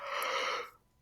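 A single person's yawn, a breathy drawn-out exhale lasting under a second before fading abruptly into quiet.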